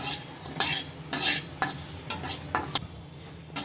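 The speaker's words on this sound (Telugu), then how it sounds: "ఇప్పుడు ధనియాలు, ఎండుమిర్చి వేసుకుందాం. ధనియాలు కూడా అలాగే డ్రై రోస్ట్ చేసుకోవాలి" Coriander seeds and dried red chillies dry roasting in a pan over a low flame for karam podi, with a series of scraping stirs and light rattling, close and moderate, ending in a brief near-silence.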